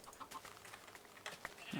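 Baby chickens in Minecraft Feed The Beast give faint, brief clucks and chirps scattered over a couple of seconds.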